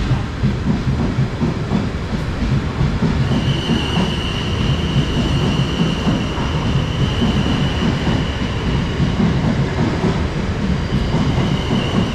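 A Class 450 electric train pulls out of a station heading toward Weybridge, its steady rumble and rail noise filling the scene with a thin high whine, close and loud throughout, no talking.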